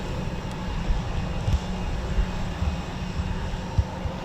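A Eurofighter Typhoon FGR4 jet engine runs on the ground at RAF Coningsby, heard as a steady, distant, broadband roar with no talking over it.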